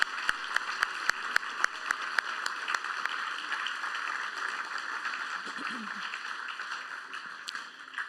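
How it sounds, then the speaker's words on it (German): Applause for young performers at the closing concert of a youth music competition in Geneva, opening with a few sharp, separate claps before settling into a steady, even wash of clapping from the audience. "Der Applaus ist für euch."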